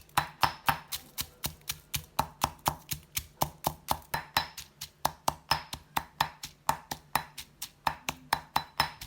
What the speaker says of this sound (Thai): หั่น ผักเตรียมไว้ตามนี้เลยค่ะ